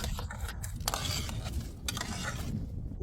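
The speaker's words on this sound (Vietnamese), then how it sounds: "Sau khi rửa sạch sẽ đổ trực tiếp vào nồi, trộn với nước súp cà chua." A spoon scrapes and clinks as rice is stirred with tomato soup in a cooking pot, making soft, irregular swishes and light metallic taps at a low, quiet level.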